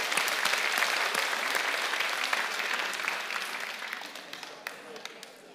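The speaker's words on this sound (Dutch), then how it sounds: "In ieder geval een applaus voor Willeke." An audience applauds warmly for a guest on a stage show; the dense clapping starts loud and gradually fades, thinning into scattered claps toward the end.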